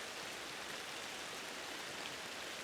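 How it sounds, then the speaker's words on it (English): Steady rain falls outdoors near a garden feeder, a soft continuous hiss with no breaks, faint and even throughout. "Here comes the rain."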